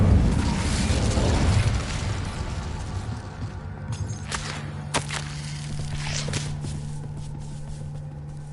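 An Incendio fire spell cast in Hogwarts Legacy bursts out as a loud whooshing blast of flame that fades over a couple of seconds, followed by several sharp cracks and a low steady hum.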